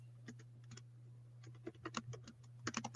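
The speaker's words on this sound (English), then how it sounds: "I'm typing something here" Someone types on a computer keyboard, with quiet, irregular keystrokes that pick up into quicker clusters over a steady low electrical hum.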